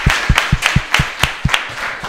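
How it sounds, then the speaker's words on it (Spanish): A few people clapping at a Disability Day pet contest award ceremony, distinct hand claps in an uneven rhythm, close and fairly loud, with no voices. "un aplauso"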